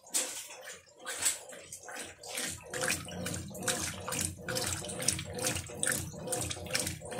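Water is poured into a washing machine built from an LT15F with an LTC15 panel and LT12F board, uneven splashing gushes rising and falling in repeated pulses, close and moderately loud.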